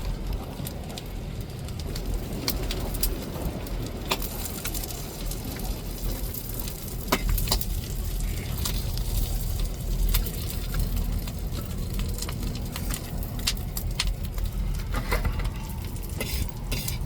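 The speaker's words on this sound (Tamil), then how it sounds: "அதனால தான் எண்ணெயில் போட்டு அப்படியே பெரட்டி பெரட்டி எடுப்போம்." Squid pieces frying in hot oil on a stove, giving a steady, dense sizzle and crackle with scattered pops throughout, close and continuous with no speech.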